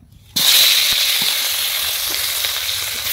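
Tangra fish, seasoned with turmeric and salt, frying in hot oil in a wok: a loud, steady sizzle bursts in after a brief quiet start and hisses on continuously with a few faint pops and clinks.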